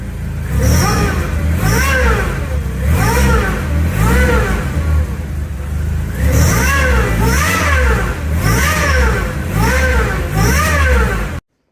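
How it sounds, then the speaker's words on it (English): A Mazda MX-5 engine fitted with a supercharger revs repeatedly in rising and falling surges with a high supercharger whine, loud and close, with a short pause midway. "it's running and the supercharger is working"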